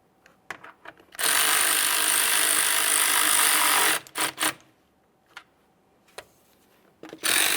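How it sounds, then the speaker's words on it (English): A ratchet or power driver snugs up the fan assembly mounting bolts on a 2015-2020 Ford F-150 3.5L V6, one sustained loud whirring burst of about three seconds followed by several short clicking pulls. "start in your mounting bolts, snug them up"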